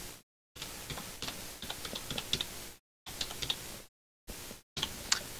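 Someone types on a computer keyboard in several quick bursts of close, crisp key clicks, separated by brief silent pauses.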